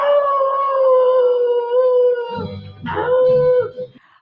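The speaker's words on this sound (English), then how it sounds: "This is Davy and the wolf" A wolf howls in a Monkees TV episode, a loud, long, wavering howl close up that breaks off, then a second, shorter rising howl with rougher whimpering tones.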